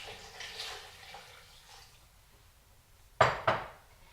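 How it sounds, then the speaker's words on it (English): Water is poured into a cooking pot for an Irish dish, with two short splashing bursts near the end that follow a stretch of faint kitchen clatter. "Then we're going to add 4 cups of water."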